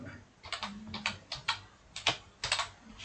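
Typing on a computer keyboard while entering HTML code, with quick irregular clusters of sharp key clicks close to the microphone and brief pauses between bursts, with no talking.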